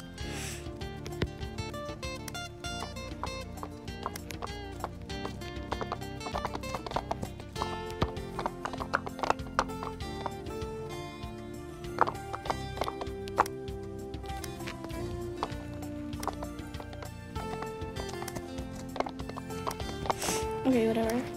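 Horse hooves clip-clopping in the Wild Horse Islands game, a steady rapid patter of taps running throughout at moderate level, with a person talking over parts of it.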